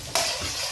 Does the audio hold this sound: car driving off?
no